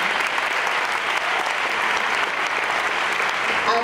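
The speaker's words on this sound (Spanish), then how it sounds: "les pido un fuerte aplauso para ellos" Strong, continuous audience applause at a music festival, cheering the event organizers; dense clapping holds steady without pause, with no speech over it.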